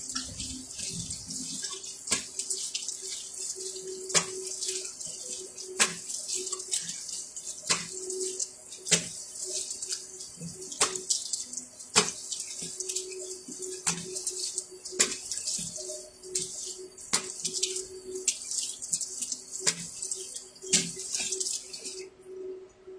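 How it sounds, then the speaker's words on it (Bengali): A tap runs steadily into a sink during face washing, a continuous close hiss of water broken by regular splashing pulses, with no talk. "একটু দাঁড়া, মুখটা ধুয়ে নিই।"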